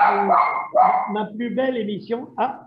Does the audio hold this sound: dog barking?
yes